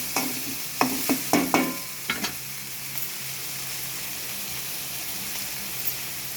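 Tomatoes sauté for kothu parotta in a pan. A burst of sharp stirring scrapes comes first, then a steady close sizzle continues alone.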